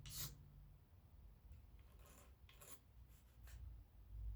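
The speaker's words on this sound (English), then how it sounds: "This one's a lot of just scraping." A tool scrapes hardened epoxy off the wooden stock of a Brown Bess musket during repair. Several short, faint rasping strokes come at uneven intervals, close up in a quiet room.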